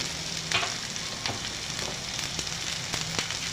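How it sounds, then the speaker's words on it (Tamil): Onions and dal for mint chutney sauté in a hot pan with a steady close sizzle, broken by a few sharp scrapes of a stirring spoon and no talking. "இப்போது இது நல்லா வதங்கட்டும்"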